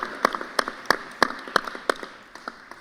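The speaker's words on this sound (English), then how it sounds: "we'll give them a round of applause" Sparse clapping from an audience at a digital security event, a few people's distinct claps spaced irregularly over a quiet room, fading out toward the end.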